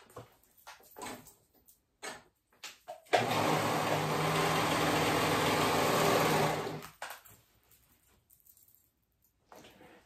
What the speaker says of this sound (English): So I'm gonna go ahead and sew these raw edges